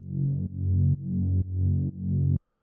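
A smooth, low synthesizer sine-wave tone, eight voices, set to mono legato, playing a series of sustained notes with quick pitch glides between them, then cutting off abruptly.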